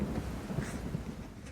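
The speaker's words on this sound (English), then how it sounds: "Waiting out the rain." Steady rain pours outdoors, with low rolling rumbles like distant thunder, during a work break on a Ford Sunliner engine removal. The wash of rain and rumble is moderately loud and continuous, with no voices.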